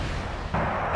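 Artillery fires in the real-time strategy game Wargame: Red Dragon: a dense rumbling barrage with a sharper report midway, loud and continuous throughout.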